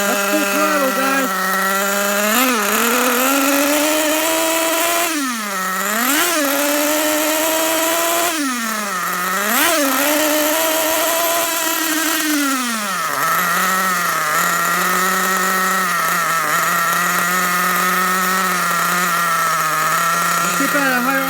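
A Losi 8ight nitro RC car engine screams at high RPM during break-in, a loud, continuous buzzing whine that dips and recovers several times as the throttle eases and opens again, close by.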